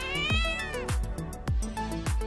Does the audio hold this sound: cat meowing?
yes